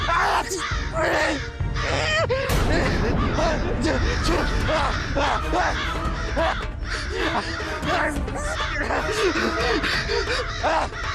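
Crows cawing in a Tenali Rama TV episode, with harsh, repeated caws that come thick and close over one another, mixed with a busy babble of voices throughout.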